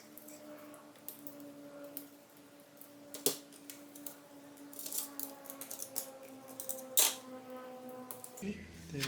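Small clicks, scrapes and light metallic taps up close as a nut and wave washer come off the starter motor of a 1977 BMW R75/7 motorcycle, quiet overall with a couple of sharper ticks.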